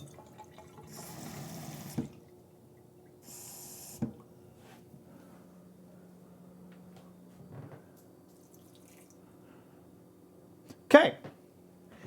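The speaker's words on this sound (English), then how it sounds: "I should probably just do a little rinse before I do this." Tap water running into a kitchen sink to rinse a pan while making raspberry swirl fudge: short gushes of flow and drips with clanks of the pan, near and moderately quiet.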